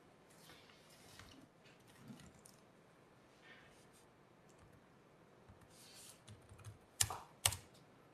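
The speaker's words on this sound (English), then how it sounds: "So you're typing already?" Typing on a computer keyboard during a technical conference session, soft steady key clicks running quietly throughout, with a couple of louder, sharper taps near the end.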